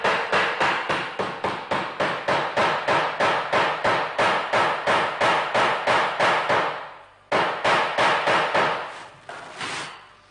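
Repeated hammer blows strike a metal rivet in a small craft piece, about two dozen sharp, evenly spaced taps close up, a short pause, then several more strikes, with no talking.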